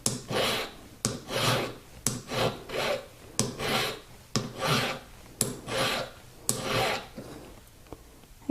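Hand file rasping a burr off a carved jewelry ring, steady back-and-forth strokes at about one per second, close and clear, with no talking.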